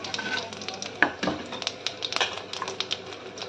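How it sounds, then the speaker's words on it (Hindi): Cumin seeds are dropped into hot oil in a kadai for a tempering, crackling in sharp irregular pops and ticks over a faint sizzle, with light utensil clicks, close and alone. "मैं अब तड़के में तेल मेरा गर्म हो चुका है कढ़ाई में, तो मैंने डाल दिया तड़के में जीरा।"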